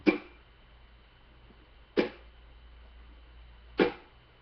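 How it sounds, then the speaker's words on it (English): Three short, dry percussive ukulele fan strums, each muted with the palm, evenly spaced about two seconds apart, each cut off almost instantly, with quiet gaps between. "you're just fanning your fingers across the board and then immediately muting it with your palm"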